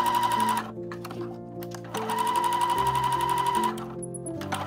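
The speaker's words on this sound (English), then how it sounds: "I shorten the stitch length when sewing a corner." A sewing machine stitches a fabric corner at short stitch length, a steady close whirring run that halts briefly near the middle, then resumes and runs again before easing off at the end.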